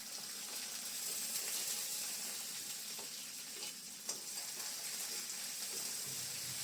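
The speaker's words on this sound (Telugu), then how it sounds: "కడాయిలో నూనె వేసి మీడియం ఫ్లేమ్లో హీట్ అయిన తర్వాత కొద్దిగా జీలకర్ర, బే లీఫ్ వేసి కొంచెం వేగిన తర్వాత" Cumin and bay leaf frying in hot oil in a kadai over a medium flame, a soft, continuous sizzle with faint crackles, fairly quiet and steady.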